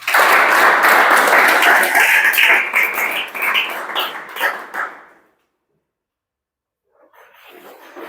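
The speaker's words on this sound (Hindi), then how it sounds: "ताली बजाओ" A class of students preparing for a police recruitment exam claps together in a loud, dense burst that thins and fades out after about five seconds, followed by silence and then faint scattered noise.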